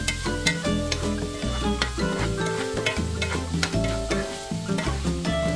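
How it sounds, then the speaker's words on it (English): A pickled stir fry is tossed and stirred in a hot pan, steady sizzling with rhythmic clinks and scrapes of the utensil against the pan, close up and with no talking. "Continuing stir fry and tossing them around about 2 minutes."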